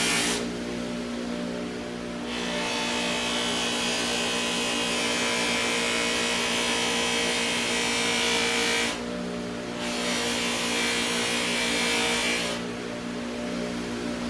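A Harbor Freight 6-inch 1/2 hp bench buffer runs steadily at close range, its motor holding a constant hum while polishing a shell, with broader hissing bursts as the shell is pressed against the spinning wheel and released.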